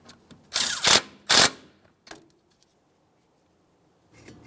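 A 10mm mounting bolt is tightened on the knuckle of a 2006-2012 Ford Fusion, heard as a couple of loud, close bursts of ratcheting, a short click, then quiet.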